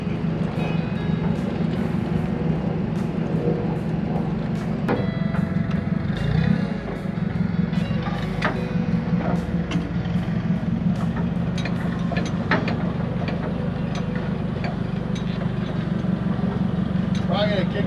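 A forklift engine runs at a steady idle with a low, throbbing rumble and some metallic clanks, close by, while people talk over it throughout.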